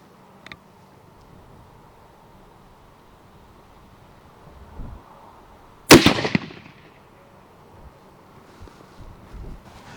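A single sharp, loud rifle shot fired outdoors from a shooting bench at a 100-yard target cracks out near the microphone, its blast decaying briefly over steady wind noise and faint background rustle.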